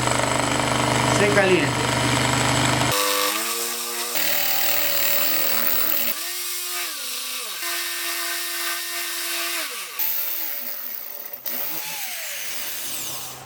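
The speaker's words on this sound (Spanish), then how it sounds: "Vamos a empezar a perforar y a humedecer para evitar que nuestra broca" A power drill bores into ceramic tile, the bit kept wet so it does not overheat; the motor whines loud and steady, its pitch rising and dropping as the trigger is eased, while someone talks over it.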